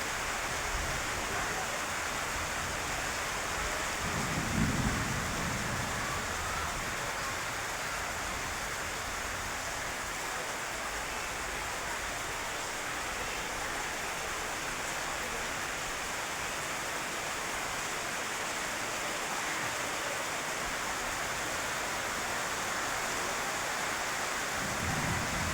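First monsoon rain falling steadily as a broad, even hiss, with a couple of low, soft thunder rumbles rolling in the distance near the start and again at the end.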